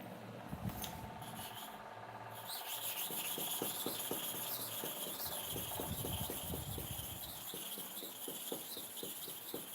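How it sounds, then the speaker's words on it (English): A GTS clipper blade is sharpened by hand with repeated rhythmic rubbing strokes. The rasping scrapes come evenly and quicken toward the end, close and fairly quiet, with no talking. "So I'm sharpening for GTS now."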